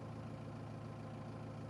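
A tractor engine idling while driving a Bush Hog 286 mower through its PTO, a steady low, faint rumble holding an even drone without variation, with no voices.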